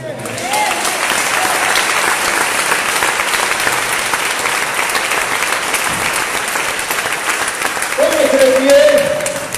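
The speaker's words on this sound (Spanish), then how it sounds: "¿Cuánto le dan un fuerte aplauso al Señor?" A church congregation gives loud, sustained applause that fills the room, and a voice briefly speaks over it near the end.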